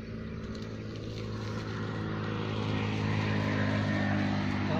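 A machine engine runs in a crop field, giving a loud, steady drone that builds slightly in strength as it keeps going, with no talking.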